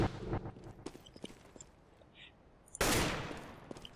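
Single-fire gunshots in Counter-Strike: Global Offensive, a few sharp separate cracks early on and a louder burst near the end, close and punchy with game sounds between them.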